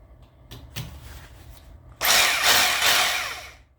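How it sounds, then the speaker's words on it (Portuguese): A power drill whirs loudly for a couple of seconds after some light handling clatter, running steadily close by before cutting off. "Vou colocar uma furadeira."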